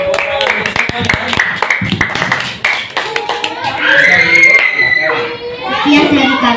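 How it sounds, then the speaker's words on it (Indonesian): Children in a grade 5 classroom clap after a group presentation, starting with sharp, scattered hand claps and giving way to noisy chatter and children's voices. "Tepuk tangan semuanya."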